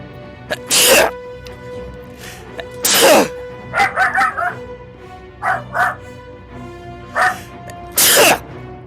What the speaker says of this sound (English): it did set my dog off